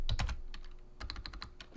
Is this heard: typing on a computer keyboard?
yes